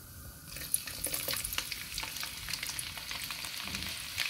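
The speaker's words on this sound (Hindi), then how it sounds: "देखिए, तड़कने लगा है, अब हम लहसुन डाल देते हैं।" Cumin seeds and garlic sizzle and crackle in hot oil in a dhaba-style kitchen making sev bhaji, a steady dense frying hiss with small pops, close and continuous.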